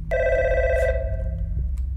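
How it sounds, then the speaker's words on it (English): A telephone rings in the horror video game God's Basement, one sustained bright electronic ring with a steady tone over a low background drone, fairly close and clear. "Phone?"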